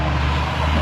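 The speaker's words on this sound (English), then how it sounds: "just wait for this truck to go past" A loud truck driving past nearby, a steady low engine rumble and road noise filling the short moment without any speech.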